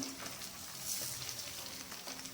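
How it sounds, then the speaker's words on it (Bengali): Paneer cubes shallow-frying in a pan for chilli paneer, a soft, continuous close sizzle with faint crackles, steady and unaccompanied by talk. "একটু লাল লাল করে ভেজে নেব, খুব বেশি কড়া ভাজবো না"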